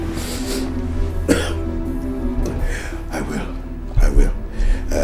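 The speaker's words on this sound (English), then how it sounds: "you need to do something about this cough" Someone coughs in a few harsh bursts in an indoor scene from a Nigerian Nollywood drama, set against a low steady hum and some background voice.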